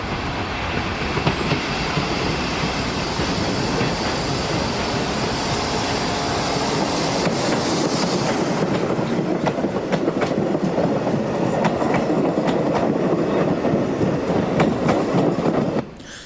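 A French-built 1200 class diesel train of Portuguese Railways runs steadily and loudly nearby, with a continuous rumble and rhythmic wheel clatter throughout.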